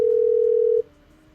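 A single steady telephone ring tone sounds clearly for under a second, then cuts off into quiet line noise.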